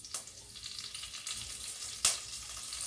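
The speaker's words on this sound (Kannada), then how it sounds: "ಈಗ ತೊಳೆದಿಟ್ಕೊಂಡಿರೋ ಕರಿಬೇವನ್ನ ಹಾಕ್ತಾಯಿದ್ದೀನಿ" Curry leaves dropped into hot oil for poha puliyogare sizzle and fry steadily, with a sharp burst of crackling about two seconds in, close and moderately loud with no talk.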